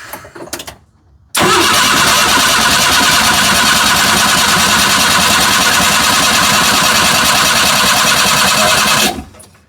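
A Suzuki Carry DD51T engine cranks steadily over on the starter during a compression test after a valve adjustment, a loud continuous churning drone lasting several seconds before cutting off abruptly.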